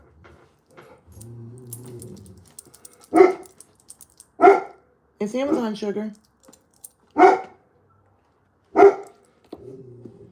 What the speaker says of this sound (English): I can hear every dog in the neighborhood barking.